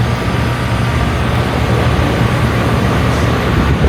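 The fan of an HVAC air conditioning unit spins with a loud, steady low whoosh and rumble that holds unchanged throughout.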